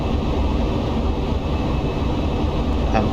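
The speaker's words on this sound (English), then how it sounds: "So obviously you hear the engines throttle back now." Airliner engines throttling back in Microsoft Flight Simulator X during a flight from Bergerac to Birmingham: a loud, steady low-heavy roar of engine and airflow noise, continuous throughout.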